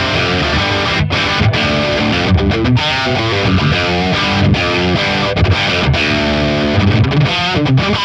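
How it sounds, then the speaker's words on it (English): Electric guitar through a cranked Thorpy FX The Dane overdrive pedal with the tone turned up, heavily distorted chugging chords and sustained notes, dense, loud and close, without voices. "let's throw in a bit more tone like that."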